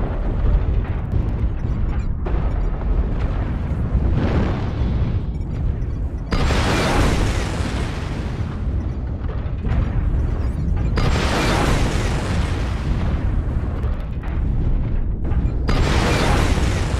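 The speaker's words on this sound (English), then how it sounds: "Artillery strike activated." Artillery strike explosions in the video game DV-6M Hibernal Rift: loud, heavy booms roll one after another for the whole stretch, with no speech over them.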